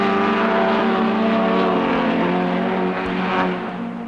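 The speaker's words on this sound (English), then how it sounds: "His car has the powerful Carrera 10 engine." A Porsche racing car with a powerful Carrera engine roars by at a 1968 British Saloon Car Championship race, a loud, steady engine drone that fades slightly at the end.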